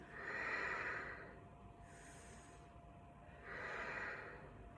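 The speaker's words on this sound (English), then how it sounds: "And we're breathing." Slow, audible breaths during a yoga pose, two long broad exhales framing a quieter pause, close and alone with no talking.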